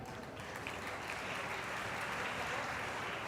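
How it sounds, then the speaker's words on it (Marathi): An audience at a university lecture event in Mumbai breaks into steady, sustained applause that fills the room evenly from start to finish, with faint voices underneath. "टाळ्या."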